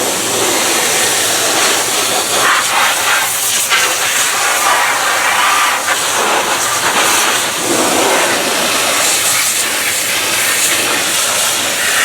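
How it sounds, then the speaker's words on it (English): A hot pressure washer sprays an engine bay, producing a loud, continuous hissing roar throughout with steady intensity and no talking. "now we're going to use the hot power wash"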